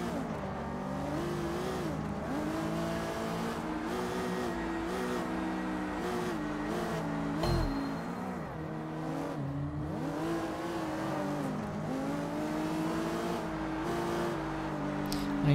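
A car in the video game Sleeping Dogs drives with its engine whining up and down through gear shifts, a continuous loud revving drone with rising and falling pitch and occasional tire noise.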